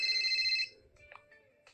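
A phone ringtone from a love story mobile game chimes in a bright repeating melody for about half a second, then cuts off, leaving faint scattered tones and a quiet background.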